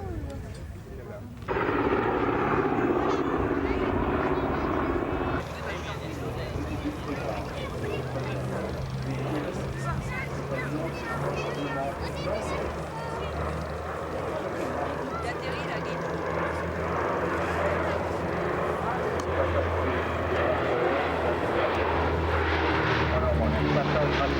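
Propeller aircraft engines drone loudly and continuously at an air show, a steady close roar with shifting pitch throughout, while a voice talks over the engine noise.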